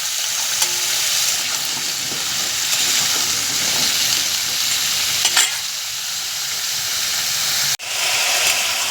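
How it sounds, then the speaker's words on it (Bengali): Prawns fry in hot oil in a pan, a loud continuous sizzle and hiss heard up close, with a brief stirring clatter midway and a short break near the end. "চিংড়ি মাছ ভাজা হচ্ছে"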